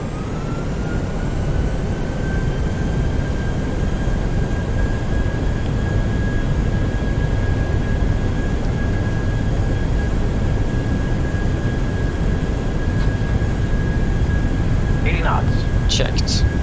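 Airliner engines at takeoff thrust in Microsoft Flight Simulator 2020, on a Norwegian flight out of Oslo: a loud, constant jet roar with a thin steady whine held throughout.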